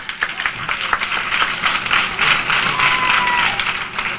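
An audience applauds loudly, producing a dense, close wash of many hands clapping at once. The applause surges and holds for about four seconds, with a few brighter bursts within it.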